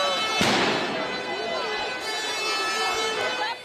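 Police fire tear gas at a May Day protest crowd in France, with several sharp bangs ringing out over crowd noise and a voice speaking throughout.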